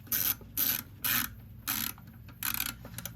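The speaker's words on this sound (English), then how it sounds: "I loosened the lock nut just using the socket, and then I tighten this back up again." A socket wrench ratchets a lock nut tight during a Triumph Roadster restoration. Five close, crisp bursts of rapid pawl clicking are separated by short pauses.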